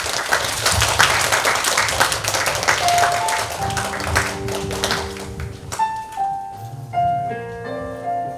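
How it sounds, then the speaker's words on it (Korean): Audience applause welcoming a professor and crossover singer at a university library concert lecture, a dense burst of clapping that fades after a few seconds as sustained piano or keyboard notes take over. "뜨거운 박수 부탁드립니다."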